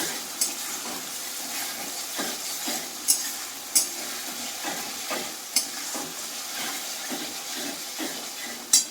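A chopped large tomato goes into spices frying in a pan for Bengali-style ghugni, with a steady loud sizzle under scraping stir strokes and sharp spoon knocks against the pan, close up.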